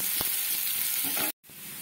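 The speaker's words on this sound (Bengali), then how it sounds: "পেঁয়াজগুলো এবার মিডিয়াম ফ্লেমে রেখে আমি ভাজতে থাকবো" Steady, loud sizzling of onions frying in a pan over medium flame, with a brief stir midway and a sudden short cut-out near the end.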